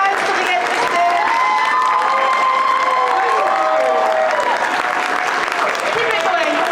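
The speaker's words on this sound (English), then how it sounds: "thank you for the huge round of applause, you guys" Audience at a Red Dead Redemption cast panel applauds and cheers loudly and steadily, with whoops and crowd shouts riding over continuous clapping throughout.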